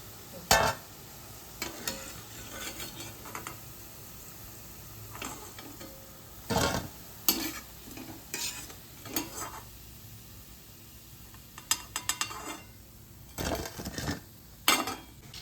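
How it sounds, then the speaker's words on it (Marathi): Medu vada frying in hot oil and being lifted out, with a low sizzle beneath loud intermittent scrapes and clinks of a metal utensil against the pan, coming in irregular bursts. "वडे आपले छान तळलेले आहेत। आता आपण काढून घेऊया।"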